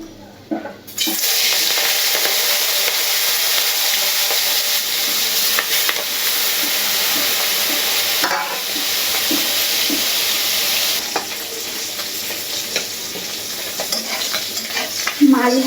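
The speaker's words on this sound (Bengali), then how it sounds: "মাছটা ভেজে নিই" Galda prawns fry in hot oil in a pan with a loud, continuous sizzle that starts abruptly and runs unbroken, with brief dips partway through.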